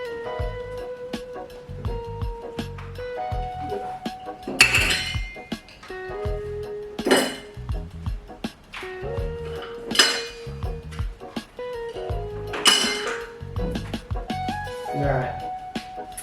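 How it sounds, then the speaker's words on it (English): Ice cubes clink and rattle as they are taken out for a gin cocktail, with repeated bright, close knocks and a few louder bursts of clattering. Background music with sustained tones plays underneath throughout. "If I can get the ice cubes out."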